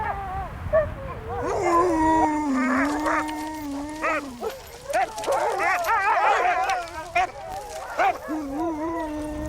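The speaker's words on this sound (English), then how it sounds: "These are called Canadian Eskimo dogs." Canadian Eskimo sled dogs on tundra, barking, yipping and whimpering close by in a continuous, overlapping chorus of rising and falling cries.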